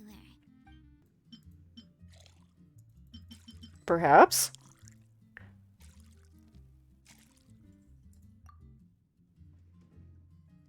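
Liquid poured into a glass in Genshin Impact's bartending minigame, a short bright splashing pour standing out over soft background music and a few speech fragments.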